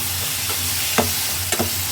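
Tomatoes stirred in a pan, a continuous sizzling hiss with two or three short scrapes of the spoon, close by and brief, nobody talking.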